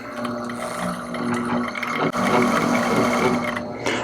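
Steady mechanical whirring of a thread-wrapping machine winding thread onto a bladed jig fishing rod, loud and close, running continuously with a brief dip midway and no talk.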